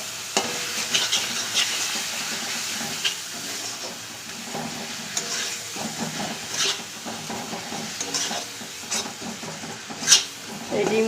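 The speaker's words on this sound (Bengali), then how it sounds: "এখন এখন আমি সুন্দর করে এটাকে কষিয়ে নেব।" Spiced egg curry masala with Kashmiri chilli powder is stir-fried in a pan: steady sizzling and frying hiss with repeated scraping stirs of a utensil, close and fairly loud throughout, no talk.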